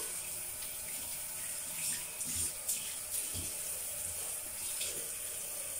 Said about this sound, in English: So I'm gonna rinse my face with cold water actually.